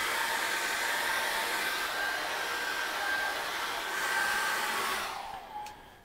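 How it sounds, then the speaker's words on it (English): A hair dryer blows steadily on acrylic paint, a close, even whooshing drone with a faint whine. It runs for about five seconds, then winds down and cuts off. "all I want to do now is just dry that off a minute."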